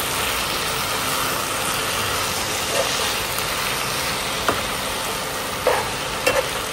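Gongura chutney with a little turmeric being mixed in a pan, a steady broad frying hiss underneath and a few soft scrapes and taps of the spoon scattered through, close and continuous.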